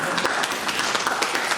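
Audience clapping in a lecture hall during a talk on democracy and elections, a dense steady patter of many hands filling the short moment, close and fairly loud with no voices over it.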